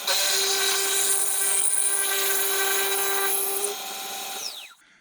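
A power drill runs at a high, steady whine with layered harmonics for close to four seconds. Its pitch falls away at the end as it spins down, and no one talks over it.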